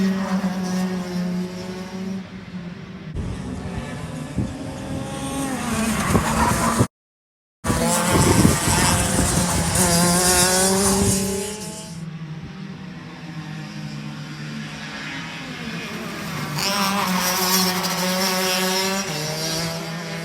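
A rental go-kart laps the reversed track layout at GoPro Motorplex during a league night, its small engine droning and rising and falling in pitch through the corners, loud and close, with a brief dropout midway.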